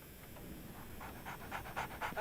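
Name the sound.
dog panting in Sherlock Holmes The Awakened video game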